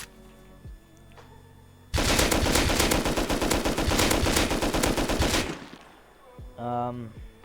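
A Thompson submachine gun fires in the survival video game Rust, a loud rapid burst of automatic shots lasting about three and a half seconds, with quieter game sounds before and after.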